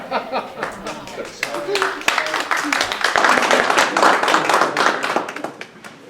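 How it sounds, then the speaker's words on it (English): A group in a room claps together in a loose, uneven burst of sharp hand slaps that swells and then tapers, with people talking over it. "we were clapping for you."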